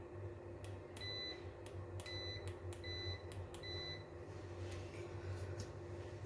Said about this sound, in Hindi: तो पहले हमको ये मल्टीमीटर को बजर मोड पे रखना है।